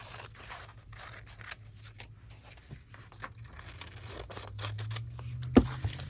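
Scissors snip through paper for a journal in a quiet room, a series of soft, irregular crisp cuts close by, ending in one sharper snip.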